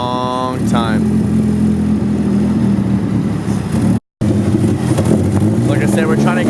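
A Nissan S13 with an SR20 engine, long left sitting and still running on old fuel, idles rough and uneven close by, with a steady low drone and a brief dropout partway through. People can be heard talking over it.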